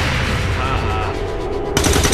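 Automatic gunfire in XCOM 2, a steady rapid burst of shots that stops abruptly, followed by a louder sharp burst near the end, with little talk.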